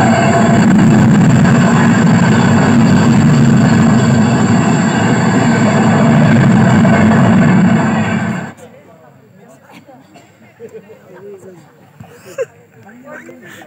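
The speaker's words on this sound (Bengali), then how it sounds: "হায় রে, ট্রেন ছেড়ে দিল রে।" Loud, close roar and rattle of a train pulling away, holding steady for about eight seconds, then cutting off abruptly to a quieter scene with faint voices.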